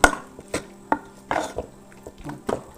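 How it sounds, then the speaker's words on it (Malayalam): A spatula stirs a pan of potato masala for masala dosa, giving a handful of sharp, close metallic clinks and scrapes at uneven intervals against a quiet background, with no talking. "ഇനി നന്നായിട്ടാണ് ഇളക്കി വെക്കാം"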